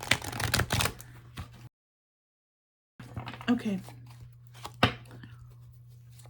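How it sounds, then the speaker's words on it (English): Quick rustling riffles of playing cards being shuffled up close, in two bursts separated by a short silence, with a brief spoken word. "Let's shuffle it again this way, and then I'm gonna do a cut"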